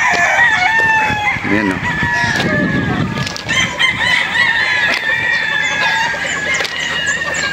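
Roosters crowing on a chicken farm, several overlapping long crows layered over one another at close range, with hens clucking and a man's brief remark underneath.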